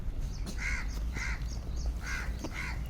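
Crows cawing while being fed outdoors, with four harsh caws at a fairly even rhythm over low background rumble, close and clear.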